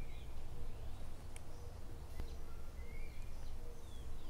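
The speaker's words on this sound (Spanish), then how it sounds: "Espero que escuchen el canto de esa ave" Faint, thin bird calls chirp now and then over a steady low outdoor rumble, with a few brief high whistles standing out.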